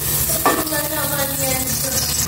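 Cooking oil sizzles in a pan on a gas stove, with a brief clatter near the start, ahead of sautéing for salmon-head sinigang; a steady, close, fairly loud hiss with no talking.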